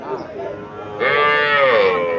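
A young Sahiwal bull calf at the Chandimura cattle market in Comilla gives a drawn-out moo, close and loud, rising and falling in pitch.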